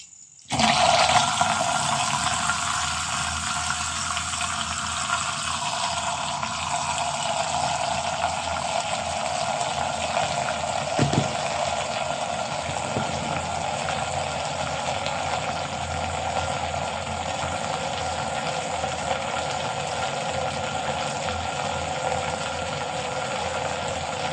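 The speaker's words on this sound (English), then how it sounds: "You're going to start hearing the vortex mixer in action" A Promixx 2.0 vortex mixer supplement cup runs steadily, a loud continuous whirring motor hum with a watery swirl, sustained and unchanging for over twenty seconds.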